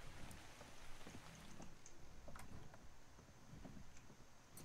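Rain falls in the game Ark Survival, a faint, even patter with scattered droplet ticks throughout, heard alone without talk.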